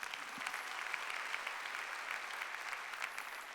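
A church congregation at a pastor ordination service breaks into sustained, dense applause that holds steady and fairly loud throughout, with no voices rising above the clapping.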